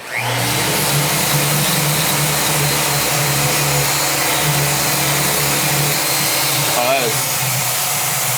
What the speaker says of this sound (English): Hit that with the sander.